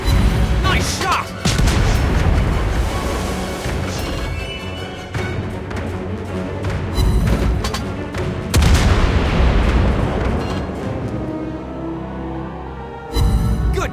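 Naval guns boom again and again in World of Warships Blitz, with a USS Flint tier VII light cruiser in the battle. The heavy blasts come in loud bursts over a dense, continuous battle din.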